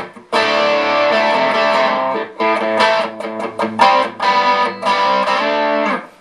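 A Butler Silver Hammer point-to-point Plexi-style guitar amp on its distorted dirty channel plays sustained, crunchy electric guitar chords, loud and close, with brief stabbed chords in the middle and a ringing chord at the end.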